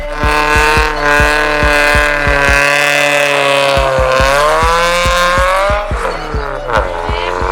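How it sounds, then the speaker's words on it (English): A car performs a skid near a bike-riding spot, its engine revving loud and rhythmic with pulsing throttle while tires squeal continuously through the burst. "Peer pressure them to do a skid."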